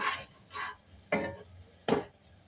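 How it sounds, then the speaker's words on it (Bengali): Black pepper powder being stirred into a curry for jackfruit kofta in a pan, four separate scraping strokes spaced about half a second apart, fairly close and moderately loud, with no voices. "এবার দিয়ে দিলাম গোলমরিচ গুঁড়োটা, দিয়ে একটু নেড়ে দিলাম।"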